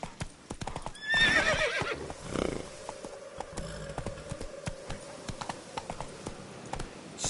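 Roach the horse in The Witcher 3, a whinny up front, then steady clip-clopping hooves at a walking pace, with game ambience and a low hum beneath.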